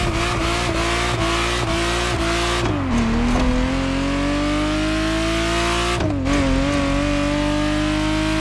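A Ferrari Testarossa flat-twelve revs hard in The Crew Motorfest racing game, its loud, steady engine note climbing through gears with two sharp shifts where the pitch drops and rises again.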